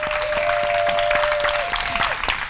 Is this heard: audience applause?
yes